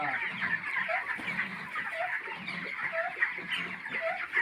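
Broiler chickens cluck continuously on a poultry farm, with many overlapping birds and repeated short calls from a nearby flock.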